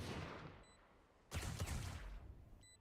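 Gunfire in the video game Valorant, shot through a wall during a VCT Pacific Kickoff match: a short burst of shots begins about halfway in, moderately loud over background game noise.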